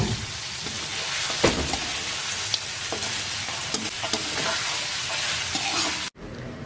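Beef ribs sautéing in a pan with onion and tomato, a constant sizzling hiss of frying broken by scattered clicks and scrapes of stirring, close and steady, cutting off abruptly near the end.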